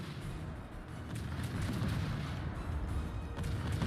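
Naval gunfire between two unspotted destroyers in World of Warships, heard as a dense, continuous rumble of booming shots that builds slightly in loudness and stays steady throughout.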